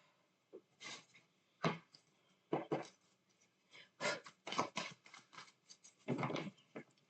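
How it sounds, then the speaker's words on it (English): Quiet papery riffles and soft slaps of tarot cards being shuffled, in irregular bursts, close by and with no one talking. "Just shuffle these a couple of times."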